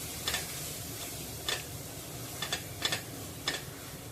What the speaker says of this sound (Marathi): हा मसाला देखील आपल्याला यामध्ये परतून घ्यायचा आहे